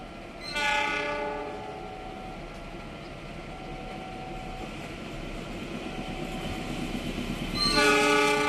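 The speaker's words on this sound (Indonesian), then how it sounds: "Kita simak KA Lodaya nomor KA160 akan melintas langsung di stasiun" Lodaya passenger train passing straight through Rancaekek station, its horn sounding loudly at the start and again at the end, with a continuous rumble and rattle of the carriages in between.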